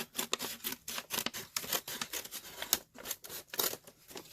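Close, crisp snipping and rustling of scissors cutting through a brown paper bag, in quick repeated strokes, fairly quiet and with no talking.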